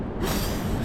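A train arrives at a station in Tokyo, rumbling nearby with a broad, roaring wash of noise, brief and fairly loud.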